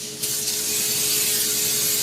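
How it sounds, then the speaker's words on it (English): A steady, close hiss of an aerosol coconut oil cooking spray onto foil, running continuously for a couple of seconds after a brief start. "I'm going to spray it very liberally"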